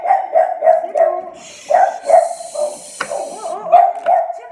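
A dog barking repeatedly in sharp, close bursts, with a brief loud knock partway through as it collides with a window pane, then more barks and yips.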